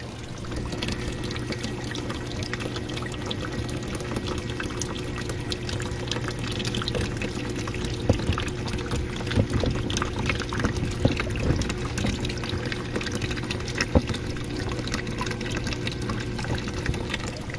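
Water from a submersible pump flows into a crayfish tank, a continuous close splashing trickle with small irregular drips over a steady low hum, with no talking.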